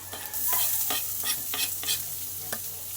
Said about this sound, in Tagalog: Saway na natin ang luya.